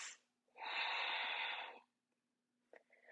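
One long, forceful breath during a pilates exercise comes close and clear, rushing for about a second, with a brief shorter breath after a pause.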